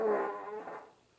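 A single fart, a short buzzy blast that trails off over about a second, fairly close and alone without talk.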